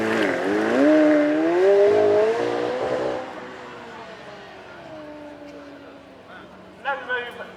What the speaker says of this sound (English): 4-litre V8 twin turbo, 120 horsepower. Final bracing there, the aero brake popping up to give us a little bit more braking performance as well.